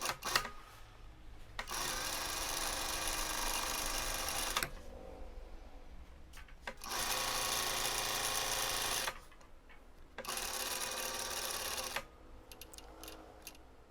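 A sewing machine stitches a shirt collar in three sustained runs of steady, loud motor whir, separated by short pauses with quiet handling, no talk.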